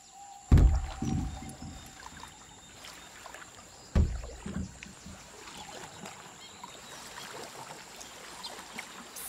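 A canoe being paddled through bayou water in Assassin's Creed Liberation. Two distinct splashing strokes sound a few seconds apart over a soft, continuous lapping and trickle of water.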